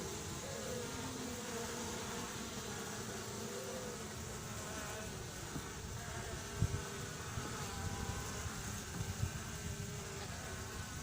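Honey bees swarm in a dense, steady buzz around a hive, many wings droning together up close with a couple of brief louder passes near the microphone.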